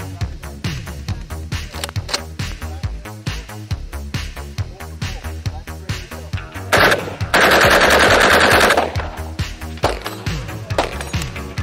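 A Yugoslav RPK machine gun with a thicker, shorter finned barrel fires in rapid bursts outdoors, loud sharp cracks in quick succession with one sustained dense stretch of continuous fire midway.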